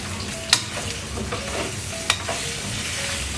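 Methi and sesame seeds fry in a pan with a dense, steady close sizzle and two sharp pops or spoon taps, no speech.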